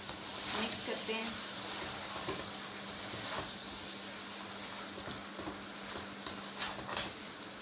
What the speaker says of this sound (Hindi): 1 टेबल स्पून गरम मसाला और सब्ज़ धनिया। ये डाल के मिक्स करते हैं।